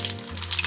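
Mustard seeds, sesame seeds and freshly chopped red chili sizzle in hot oil for a tadka, a short, loud, crackling fry heard up close and alone.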